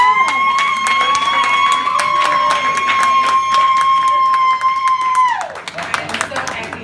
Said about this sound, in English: Please give my beautiful mother a round of applause.